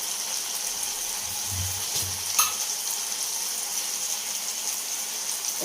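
Oil sizzles in a pan as salt goes in for a potato and egg curry, a steady close hiss with a brief low scrape and one small clink partway through.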